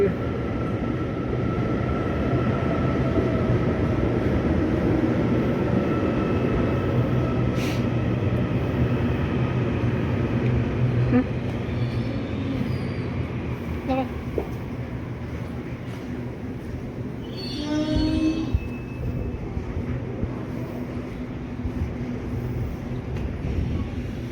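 Passenger train travelling to Tainan City, heard from inside a car: a steady low rumble and rolling hum filling the whole stretch, with faint squeals and a brief rattle, no clear talk.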